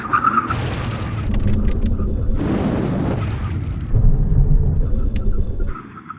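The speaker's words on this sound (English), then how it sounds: "Full emergency stop." A Nissan GT-R Nismo makes a full emergency stop from 70 mph, giving a loud, close rush of road and tyre noise with heavy rumbling that swells and then fades out over several seconds.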